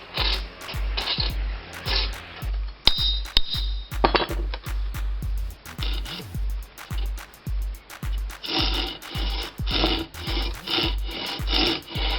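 A file rasps across the teeth of a Japanese saw during sharpening, making quick rhythmic strokes that are close and fairly loud and repeat steadily with brief pauses.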